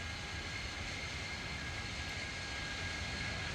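An Embraer E-190 in the X-Plane 12 flight simulator gives off a steady, even engine whine and rumble, constant in level throughout with no voices over it.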